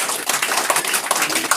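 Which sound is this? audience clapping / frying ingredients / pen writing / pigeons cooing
audience clapping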